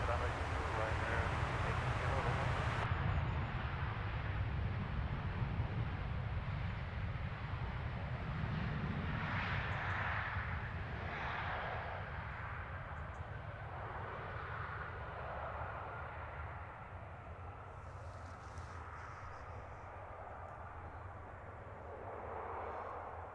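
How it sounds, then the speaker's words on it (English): A Ryanair airliner arriving from Katowice approaches Stansted Airport, a broad distant engine rumble that holds steady, then slowly eases and fades over the passage. "This is Ryanair 2472 coming in Katowice."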